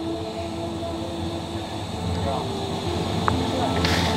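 A long passenger train runs on the Qinghai-Tibet Railway near the Kunlun Mountain Pass, giving a steady rolling rumble with faint squeals, while people talk over it.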